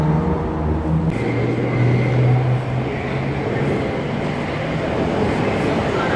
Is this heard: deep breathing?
no